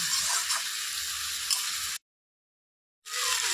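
Chapila fish and eggplant curry sizzles softly in an uncovered pan while being stirred. A steady, fairly quiet frying hiss with light stirring noises cuts out to silence for about a second, then resumes. No voices.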